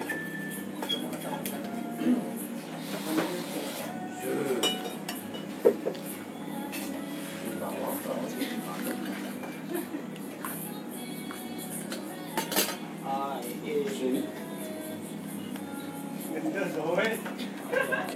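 A spoon stirs khop coffee in a glass at a café in Klungkung, Bali, giving light, scattered clinks and taps. The sounds are faint and irregular against a busy room where people talk.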